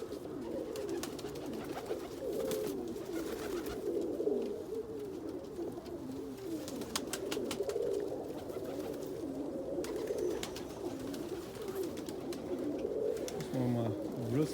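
Indian Fantail pigeons coo steadily in a loft, their low, soft, repeated calls continuing throughout at moderate distance while someone talks over them.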